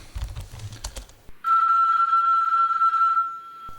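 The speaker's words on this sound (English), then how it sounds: "It's a phone ring." A telephone ring sounds as a steady electronic tone lasting about two seconds, loud and close, coming right after a short burst of clicking and rattling.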